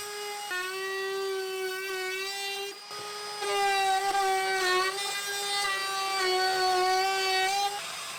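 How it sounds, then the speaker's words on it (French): A high, steady whine of a trim router with a quarter-round bit running continuously with harmonic overtones, dipping briefly midway before resuming, close and moderately loud. "j'attrape mon affleureuse avec un quart de rond et j'ajoute ce quart de rond tout autour"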